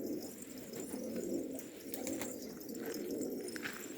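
Released pigeons of Turkish fancy breeds, including a yellow Hungarian and a yellow rose-patterned bird, coo steadily at close range with soft repeated calls, no talk, over a constant outdoor background hiss.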